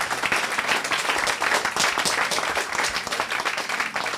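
A church congregation applauds the Lord during a service, with dense, steady clapping from many hands filling the room throughout and no speech over it.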